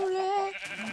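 A single Minecraft sheep lets out a close, clear, wavering bleat that slides downward and fades within a second.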